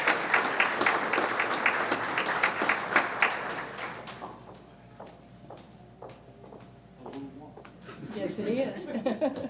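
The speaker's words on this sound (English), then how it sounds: "Please give a big round of applause for Diane" Audience applause at an evening awards event for a 2010 Volunteer of the Year, a dense burst of clapping that thins into scattered claps and fades, followed by voices and renewed noise near the end.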